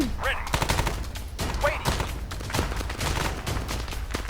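Dense covering gunfire in Arma 3, rapid overlapping bursts of automatic shots in a fast continuous barrage, loud and close, with brief voices mixed in.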